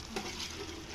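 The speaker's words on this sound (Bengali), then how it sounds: "নাড়াচাড়া কন্টিনিউয়াসলি করতে হবে" Khichuri being stirred in a pot over a wood-fired stove on a terrace, a soft continuous scraping and sizzle, close but quiet, with one brief louder scrape.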